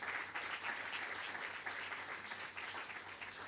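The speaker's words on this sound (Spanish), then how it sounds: "Dale un aplauso a Dios," Church congregation applauding at a sermon, a steady wash of many hands clapping at low level, distant and uninterrupted for a few seconds.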